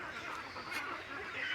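Ducks kept in a confined enclosure on a duck farm, a steady massed chatter of many birds quacking together at moderate distance, with no one speaking.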